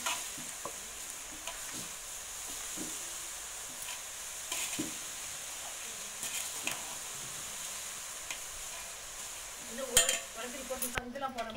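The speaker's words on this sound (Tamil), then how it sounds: "எண்ணெய் நல்லா காய விட்டு போடுங்க அப்பதான் வந்து நல்லா முத்து முத்தா இறங்கும்" Boondi batter drops frying in hot oil for Diwali snacks, a steady soft sizzle with scattered stirring clinks, and a louder burst of bubbling and utensil scraping near the end.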